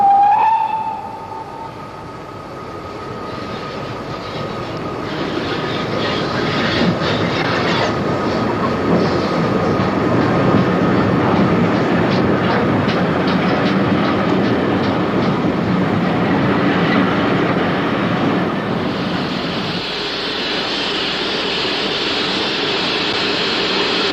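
A former Great Western Railway steam locomotive from South Wales, a freight engine, passes near Lewisham Station, a steady rumbling roll of wagons and rail noise holding loud throughout with a brief whistle-like tone at the start.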